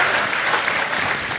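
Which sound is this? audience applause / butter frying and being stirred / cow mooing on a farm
audience applause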